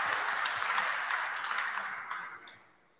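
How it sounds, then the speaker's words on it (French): An audience at an awards event applauds, the clapping loud at first and then thinning out and fading over about three seconds. "On peut les applaudir."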